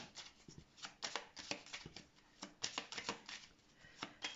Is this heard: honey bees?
no